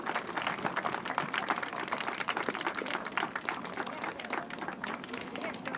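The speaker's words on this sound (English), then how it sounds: "Please join me in another round of applause as the flag has been raised here at Parliament Hill." Crowd applause at a flag raising on Parliament Hill, a dense, steady patter of many hands clapping continuously throughout at moderate level.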